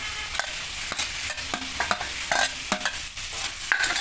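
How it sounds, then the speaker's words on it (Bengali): Fried cauliflower stir-fried in spice paste in a pan, close frying sizzle under repeated sharp scrapes and clacks of a spatula, irregular and busy, with no talking. "ফুলকপিটা মশলার সাথে একটু কষিয়ে নেবো"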